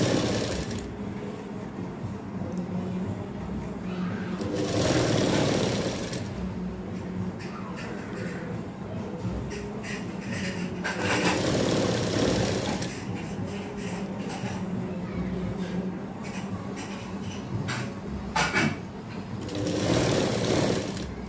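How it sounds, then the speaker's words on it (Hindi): An electric sewing machine stitches baby frock fabric in repeated bursts, its rapid needle chatter rising and easing several times over about twenty seconds, close and clear with faint background noise. "इन दोनों को एक दूसरे के ऊपर रखते हुए यहाँ पर सिलाई लगाएंगे।"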